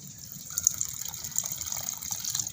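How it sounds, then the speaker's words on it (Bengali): Water pours and gushes into a bowl of freshly grated potatoes for crisp potato chips, a steady splashing rush close by that gradually grows fuller. "আলুগুলো গ্রেট করার পরে সঙ্গে সঙ্গে জল দিয়ে দিতে হবে"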